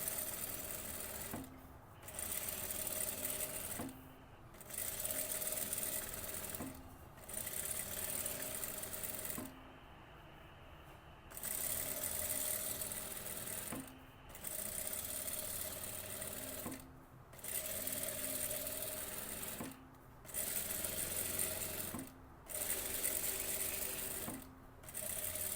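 Sewing machine stitching a seam on a dress, running in steady close bursts of rapid mechanical chatter separated by short pauses, with no voices over it.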